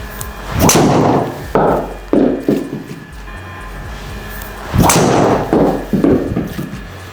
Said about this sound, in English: hit a few shots there with the Paradym AI SMOKE triple diamond model